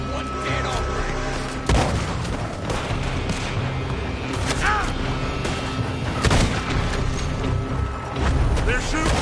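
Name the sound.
gunfire in a wild west video game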